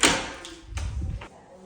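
A big front door of a large house swings and thuds shut, with a low rumbling bump and a bit of rattle, heard nearby with little else around it.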